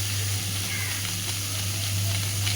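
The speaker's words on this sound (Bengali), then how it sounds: "আলু বেগুন কাঁচকলা সবই মোটামুটি একটু ভাজা হয়ে গেছে।" Potato, eggplant and green plantain pieces fry in hot oil in a pan for a light fish curry, giving a steady, close, loud sizzle that runs throughout with no talk.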